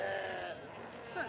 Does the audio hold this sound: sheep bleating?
yes